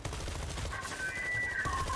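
Rapid gunfire in World War Z on the Hell and High Water map, aimed at a screamer zombie, forms a dense, sustained crackle of overlapping shots with a faint ringing tone riding above it.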